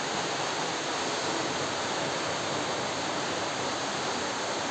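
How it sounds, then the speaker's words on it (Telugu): A waterfall in dense forest near Rapur roars as a constant, loud and even wash of falling water, unbroken throughout and with no voices. "కనిపిస్తుందా వాటర్ ఫాల్స్ సూపర్ కదా"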